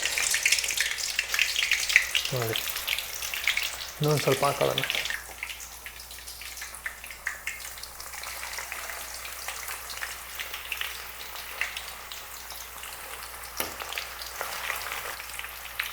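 Raw banana slices for Coorg-style chips fry in hot oil with a continuous sizzle, louder bursts as more slices drop in, and someone talks over it.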